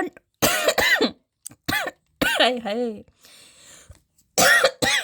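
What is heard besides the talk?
coughing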